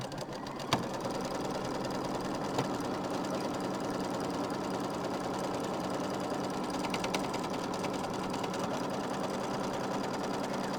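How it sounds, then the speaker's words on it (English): An embroidery sewing machine threaded with black thread and regular bobbin thread stitches placement lines for batting, a steady, close mechanical whir and rapid needle clatter running the whole time with no voices. "So the first thing it's going to do, and I've got my black thread in my machine"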